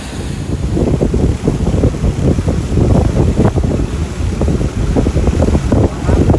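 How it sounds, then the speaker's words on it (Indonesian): A speedboat bound for Melak roars past on a river above Samarinda. There is a loud, continuous churning of motor and rushing water with heavy wind buffeting, and no voices. "Ini ada kapal cepat teman-teman, speedboat yang ke Melak."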